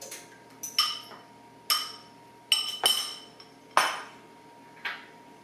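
A utensil beating eggs and sour cream in a bowl, sharp clinks and scrapes against the bowl in an irregular series of about eight strikes, close and clear with no talk.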